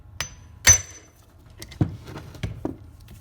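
Hammer smacking a Banshee engine case part, a few sharp metallic strikes at irregular intervals, close and clear, with one hard blow standing out among lighter taps.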